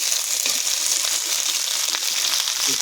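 Tomatoes added to a hot pan of ribbonfish curry with potatoes, giving a loud, continuous, close sizzle with faint stirring taps.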